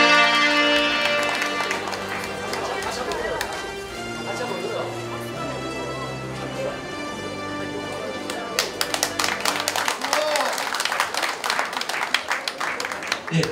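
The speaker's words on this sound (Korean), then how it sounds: "자, 뜨거운 박수 부탁드리겠습니다" Hand clapping rises over recorded dance music at a year-end rhythm-dance festival in a Daejeon dance hall, sharp, quick claps building in the second half while the music keeps playing beneath.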